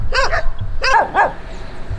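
Nearby dog barks in two quick pairs, sharp and fairly loud, on a path up a small hill behind a house, with no talk over them.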